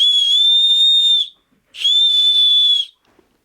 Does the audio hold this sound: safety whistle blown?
yes